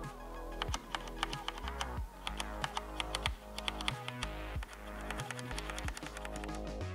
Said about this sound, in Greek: Τα εν λόγω πλήκτρα, αν και έχουν εξαιρετικά γρήγορο feedback, είναι αθόρυβα και απουσιάζει πλήρως ο κλίκι θόρυβος.